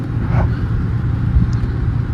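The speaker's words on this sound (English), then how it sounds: "this trash truck just picked up my client's bin" A garbage truck idles and rumbles close by after picking up a residential trash bin, a steady low engine drone with a brief mechanical whine near the start and a faint high squeak later.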